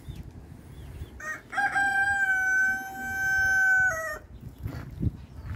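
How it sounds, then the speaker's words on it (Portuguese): A chicken lets out one long, loud, sustained crowing call, close by, with softer clucks and outdoor ambience before and after. "Canta, galinha, canta."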